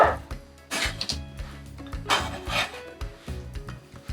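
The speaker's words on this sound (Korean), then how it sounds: "깍둑썰기만 짤짤하게 이렇게 썰어주세요." A knife dices Spam and tofu into small cubes with a quick, irregular series of close, light chops and scrapes that are fairly quiet, and no one speaks.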